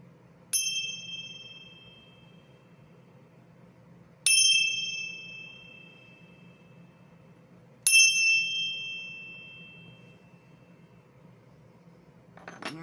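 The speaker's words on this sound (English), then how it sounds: "I'm going to clear the energy with my little bells here." Three bright little bell strikes, evenly spaced several seconds apart, each ringing out and fading slowly over a faint low hum.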